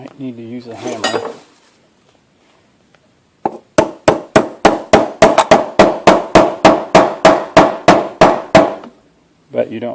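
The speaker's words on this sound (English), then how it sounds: "you might need to use a hammer" About eighteen sharp metallic hammer strikes on metal held in a vise, pinching a DIY axle connector, in a steady, quick rhythm, loud and close, with a brief voice before and after.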